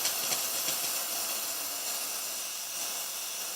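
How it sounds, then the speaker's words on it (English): An espresso machine steam wand hisses steadily as it is purged, a continuous broadband rush of steam at moderate level with no speech over it. "I usually do this for like 5 seconds and then it's ready to steam."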